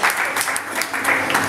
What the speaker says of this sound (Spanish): el aplauso para el señor Carlos Soria, Walter Pángaro, Mariano El Sonido